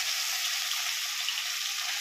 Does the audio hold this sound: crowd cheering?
no